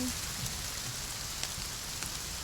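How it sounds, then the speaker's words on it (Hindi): Steady rain falls on surfaces with an even, moderate hiss of drops and no other clear sounds. "अच्छी बारिश हुई है"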